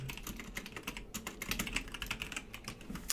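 Quick, light clicking keystrokes on a computer keyboard as a comment is typed into C++ code, close and fairly quiet, in an uneven rapid run with brief pauses.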